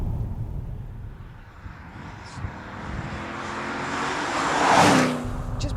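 A car's raucous, grunty engine while driving, heard as a steady low rumble with road noise that swells into a louder passing surge near the end.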